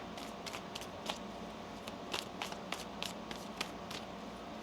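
A deck of tarot cards is shuffled by hand during a reading, giving a string of quick, soft riffling snaps and flicks at an irregular pace, close and fairly quiet, with no talking.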